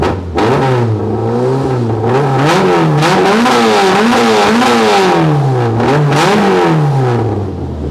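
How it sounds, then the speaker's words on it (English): Car engine fitted with individual throttle bodies idling after starting, a loud, close, steady throbbing burble with slightly wavering revs and a raspy induction edge throughout. "So it fires straight up now and idles."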